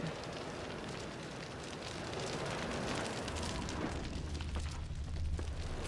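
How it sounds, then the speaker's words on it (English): A wooden shack burns in The Witcher 3, a steady crackling, roaring fire with dense popping and a low rumble, continuous and fairly quiet throughout. "let's burn this shack down"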